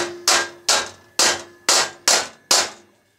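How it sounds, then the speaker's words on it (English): Six sharp, evenly spaced hammer taps on the screws of an electronics case, each a crisp metallic click with a short decay, close and clear with no talking. "a couple of gentle taps sometimes with a small hammer will help to loosen"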